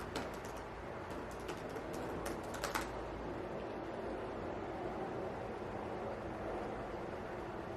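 Typing on a computer keyboard while building a web app, a dense patter of key clicks clearest in the first three seconds, then fading into a steady background hum.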